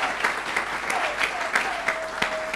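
Church congregation clapping during an Easter service, a steady rhythmic applause at moderate level with a faint sustained tone running under it and no voices breaking through.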